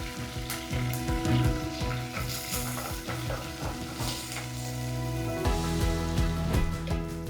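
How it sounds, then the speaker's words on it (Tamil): Curry leaves and garlic frying in oil for Chettinad mutton chukka crackle and sizzle steadily up close, with rhythmic stirring scrapes against the pan and a constant background hum. "கருவேப்பிலை பொரிஞ்சோன்னா நம்ம பூண்டை போட்டுக்கலாம்."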